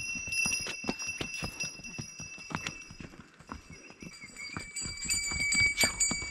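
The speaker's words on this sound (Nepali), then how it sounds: "दौड्यो घोडा दौड्यो" Hooves clip-clop in a quick, uneven rhythm as a horse runs along a mountain trekking trail, close and moderately loud, while a bell tinkles and rings along with it.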